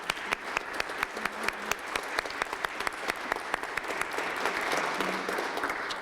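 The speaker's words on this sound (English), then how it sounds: "Let's give them a round of applause" Applause rolls through an EMS graduation ceremony, with dense, steady clapping from a sizable audience, sharp individual claps popping out near the front, sustained for the full six seconds with no voices on top.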